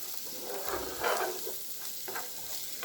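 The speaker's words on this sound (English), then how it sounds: "So we saute this for a few minutes." Dill and vegetables sautéing in a pan, a soft continuous sizzle with intermittent stirring scrapes, close and moderately quiet.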